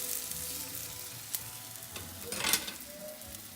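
Keto cauliflower grilled cheese sandwich frying in a pan, a soft, steady sizzle with occasional crackles and brief spatter bursts, close and quiet with no talking.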